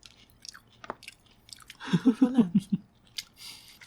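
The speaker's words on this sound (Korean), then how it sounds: "치킨 손으로 먹는 거야. 뭔가 손으로 먹어야 더 맛있는 거 같아 그지?" Close, crisp chewing of fried honey chicken eaten by hand, a quick run of about six wet crunchy bites in the middle, with faint clicks and quiet pauses around it.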